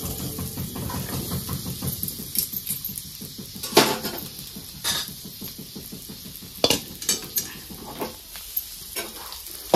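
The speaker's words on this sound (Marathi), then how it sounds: "मी ह्याला चांगलं तेलामध्ये हलवून घेतलेलं आहे, फ्राय केले ती बटाटे" Potato pieces stirred in hot oil in a pan, a loud close sizzle with repeated scraping and clinking of a spoon against the pan, irregular strokes throughout, no voices.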